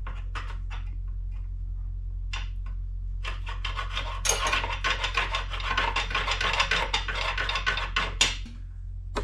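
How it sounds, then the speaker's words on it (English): A scriber is scratched along a metal motor mount to mark an arc for a vintage Honda XL dirt bike. Light ticks come first, then a steady, close rasping scrape over a constant low hum, with no talk. "let's just scratch this arc from this point over here on this side"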